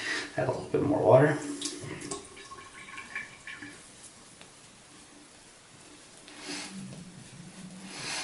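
A tap runs water into a sink as shaving soap is lathered, a brief strong splash near the start, then a quieter trickle and a second faint burst of flow near the end.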